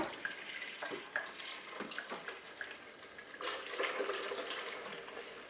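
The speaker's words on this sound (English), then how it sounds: "So hot water from the tap." Hot tap water runs into a container during dishwashing, a steady broadband splashing rush with a few louder bursts of sloshing, close and continuous with no talk.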